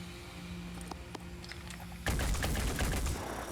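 Video game gunfire in Phoenix Point: a few faint distant shots at first, then a sudden loud burst of rapid sustained firing that keeps going to the end.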